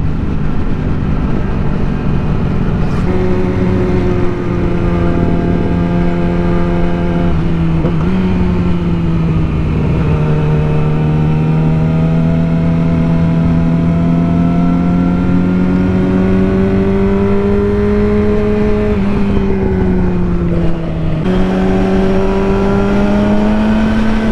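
Kawasaki Ninja 400 and Yamaha R6 motorcycles on a cruise with Harley riders give a loud, continuous engine drone heard from on the bike, with the pitch rising and falling through gear shifts and wind noise over a long stretch.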